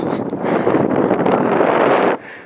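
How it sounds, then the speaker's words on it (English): Strong wind gusting across an exposed high spot in the Guadalupe Mountains, a loud broadband roar buffeting the microphone for about two seconds before dropping abruptly to a quieter rush. "It's a little bit windy up here."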